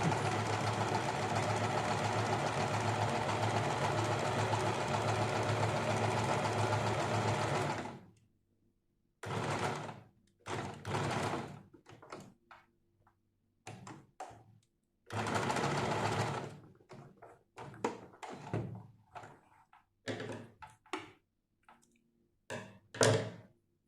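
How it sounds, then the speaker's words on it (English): A sewing machine double stitches fabric edges, running in one long continuous whirring burst, then in short stop-start bursts separated by silences, close and fairly quiet. "For that you can see how I'm going to double stitch the edges."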